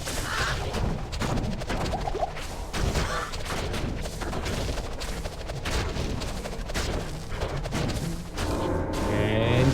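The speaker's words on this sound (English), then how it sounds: "And corpse explosion." Corpse explosion skill in the Diablo II game sets off a dense barrage of blasts, crashes and impacts, loud and continuous, with a rising roar at the end.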